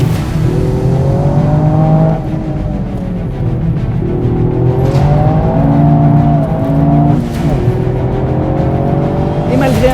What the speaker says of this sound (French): on entend bien le 3 cylindres chanter